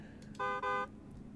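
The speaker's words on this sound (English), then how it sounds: "Honk, honk." In the game Endacopia, a car horn gives two short, close honks in quick succession against a quiet room tone.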